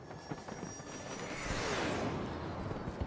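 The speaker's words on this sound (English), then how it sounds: "That jet nearly hit me in the head." A jet aircraft in Battlefield 2042 roars past overhead, swelling from a distant hiss to a loud close whoosh with a falling pitch, over scattered gunfire and game noise.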